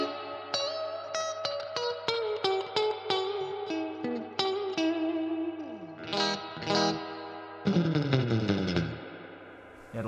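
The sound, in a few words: reverb effect from Source Audio Collider pedal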